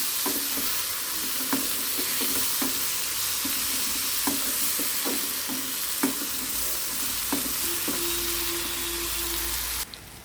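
Cucumber pieces frying in a pan as they are stirred: a continuous close sizzle punctuated by regular spatula scrapes and knocks, with a brief tonal hum near the end before the sound cuts off.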